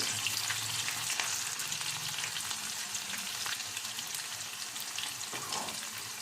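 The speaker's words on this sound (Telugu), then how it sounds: "ఉల్లిపాయలు ఈ ఉల్లిపాయలు కూడా కొంచెము మనకు గోల్డెన్ బ్రౌన్ కలర్ అవ్వాలి" Onions frying in oil toward golden brown for a fenugreek leaf and red lentil dish, giving a continuous close hiss and crackle with little change from start to finish.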